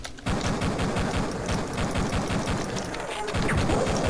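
Rapid gunfire from the shooter game EDuke32, a dense run of repeated shots firing almost continuously at close range, loud and steady for the whole stretch with no voices.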